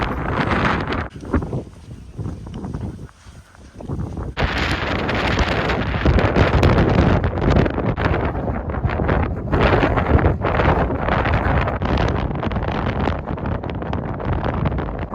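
Strong wind in Iceland buffets the microphone in loud, continuous roaring gusts, briefly easing before surging back and staying heavy throughout.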